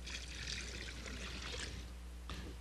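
Apple cider poured into a brine of brown sugar, kosher salt, peppercorns, juniper berries and clove, a faint, brief liquid pour and trickle, close and quiet, ending with a small splash.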